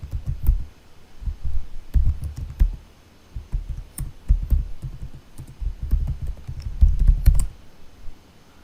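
Keystrokes on a computer keyboard while a username and password are entered, a close series of soft clicks in irregular bursts with short pauses, heard alone without any talking.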